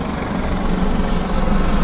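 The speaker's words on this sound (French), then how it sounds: "Ah, ça, c'est des hélicoptères étrangers" Helicopters fly over a wildfire area in Gironde as a continuous broadband rotor and engine roar, loud and steady throughout with no clear pauses.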